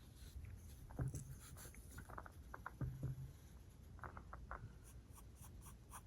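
A pencil sketches lines on paper in quiet, close scratchy strokes, a few short bursts with pauses between them, faint against a low room background.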